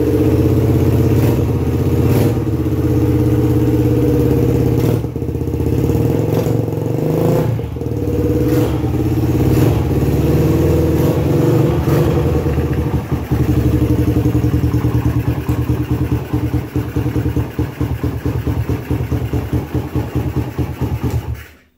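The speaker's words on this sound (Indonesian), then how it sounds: "Ini motor berapa minggu nih belum saya nyalain, panas-panasin." A Suzuki Satria FU motorcycle engine, started after weeks unused, runs steadily for a long stretch, a loud low rumble with a rough, pulsing beat that cuts off abruptly at the end.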